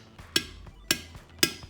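A hammer taps on a seal inside a limited-slip differential case half: three sharp metallic strikes about half a second apart, each followed by a softer knock, close and fairly quiet with no talking.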